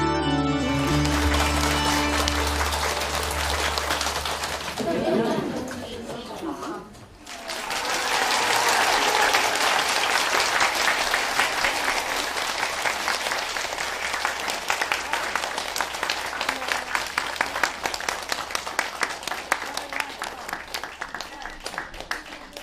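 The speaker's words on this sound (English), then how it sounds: "You clap because I wear some nice clothes?" An audience claps in a lecture hall for a spiritual teacher, a dense steady round of applause, preceded by a voice speaking over a hum.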